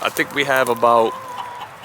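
Chickens cluck close by while a person speaks over them, the birds' calls mixing with the voice throughout.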